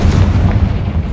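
A Confringo spell explodes in the Hogwarts Legacy video game, a loud, close, heavy boom with a deep rumbling body that holds for about a second.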